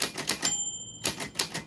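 Typewriter keys strike in a quick irregular rhythm, then a bright bell rings clearly and sustains for about half a second before the clacking typing resumes. All of it is close and loud, with no voices.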